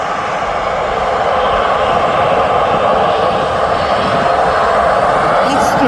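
Embraer Legacy 600 private jet at Birmingham airport, its engines producing a loud, steady roar that holds without break throughout.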